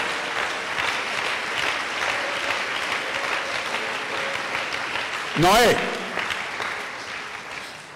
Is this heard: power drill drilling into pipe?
no